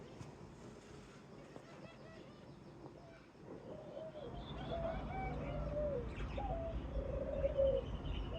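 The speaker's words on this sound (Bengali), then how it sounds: "কি সুন্দর করে ডাকতেছে" Ringneck doves coo from a backyard aviary, soft repeated low hooting calls rising after a few seconds, with scattered chirps from other birds over a steady background hum.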